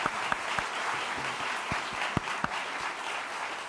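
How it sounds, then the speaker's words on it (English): Audience at a geography spelling bee bursts into steady applause, a dense wash of clapping with a few sharper hand claps standing out near the end, continuous and fairly close. "That deserves a round of applause."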